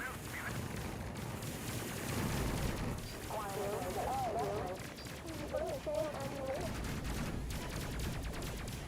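Explosions from high explosive rounds and missiles in the Space Crew video game: a dense, continuous barrage of loud blasts with a rumbling crackle, mixed with tonal game effects.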